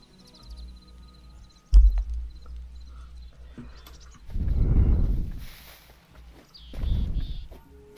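Horse hooves clip-clopping in the video game Hytale, a few close clops followed by a sharp thud, then two louder bursts of hoof noise separated by a pause, with no talk.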